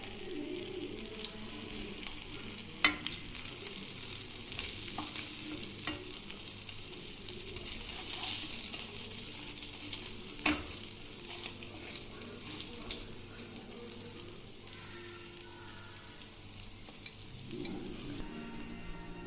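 Fish frying in oil in a pan for a Tamil-style fish fry, a soft steady sizzle with a few louder pops and clinks, fairly quiet and without talk.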